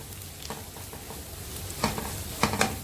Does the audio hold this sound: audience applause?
no